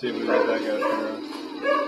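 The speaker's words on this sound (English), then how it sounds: "You'll have to excuse the dogs if they come in here." Dogs inside a house bark and yip in short repeated bursts close by, mixed with someone talking over them.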